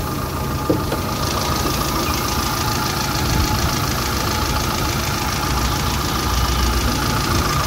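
A 2012 Hyundai i10 Era with low mileage idles steadily, a loud, even engine hum and rattle heard up close in the engine bay, with no talking.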